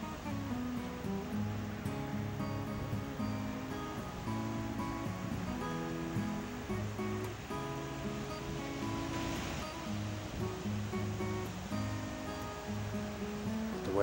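Ocean surf washes continuously onto the beach at Newport Beach on the West Coast at sunset, a steady rolling roar of moderate waves heard from a distance.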